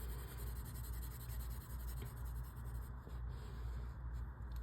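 Pencil shading on paper while darkening a grid drawing, a faint continuous scratchy rubbing with slight strokes of changing direction, quiet and close with no talk.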